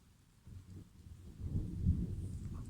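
Thunder from a midday thunderstorm rumbles low and deep, swelling from quiet to a heavy rolling boom that lingers, with faint rain behind it.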